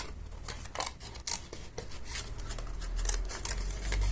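Scissors snip through paper to cut out small pieces for a paper craft, with quick irregular close-up cuts and soft rustling between them.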